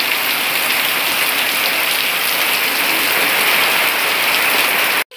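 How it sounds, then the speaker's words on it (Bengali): Heavy rain pours down steadily, a dense hiss of drops drumming on surfaces, loud and close, cutting off abruptly at the end. "এত বৃষ্টি এত বৃষ্টি ঝমঝমি বৃষ্টি শুধু বৃষ্টি আর বৃষ্টি"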